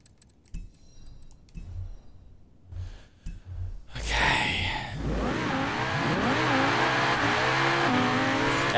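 A Lamborghini engine in Forza Horizon 4 starts after a few quiet knocks and clicks, then revs hard and climbs through rising gear sweeps into a sustained loud roar.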